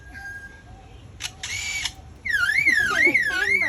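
A lyrebird mimics a camera shutter's quick clicks and whirs, then breaks into a loud warbling imitation of a car alarm, close and clear.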